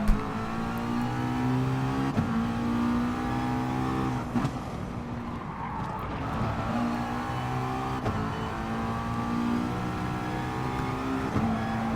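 Race car engines in GT Sport at Big Willow, a Jaguar among the field, droning and revving steadily with gear-shift dips every couple of seconds, sustained and fairly loud with no talk.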